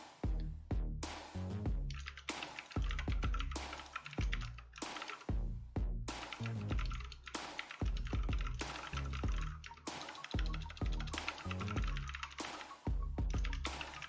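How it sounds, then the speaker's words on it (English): Rapid bursts of typing on a computer keyboard, close and crisp, with clustered key clicks separated by brief pauses as notes are entered. "I'm typing it down if you're wondering."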